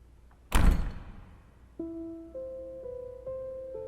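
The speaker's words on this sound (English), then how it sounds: "there came the sound of a door slamming." A door slams hard in a castle corridor, a single loud booming thud that rings out and decays in the space, followed by faint sustained tonal hum.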